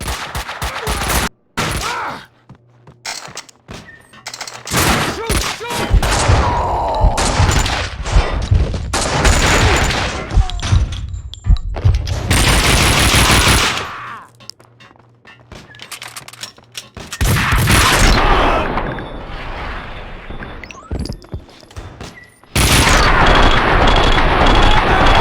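Intense gunfire in the Max Payne 2 video game, long loud stretches of rapid shooting and blasts broken by short silent gaps, dense and close, with almost no talk.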